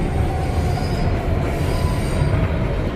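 A Queens-bound New York City subway train runs underground, heard from inside the car as a loud, steady rumble with thin metallic wheel squeals rising and fading above it.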